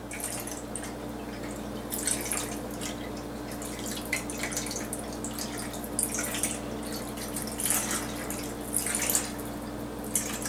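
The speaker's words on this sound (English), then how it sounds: "So now we're going to pour and get it all over the stove." Liquid pours and drips over ice cubes while making rainbow shots on a stove top, with a steady trickle and scattered splashy drips at close range and no talking.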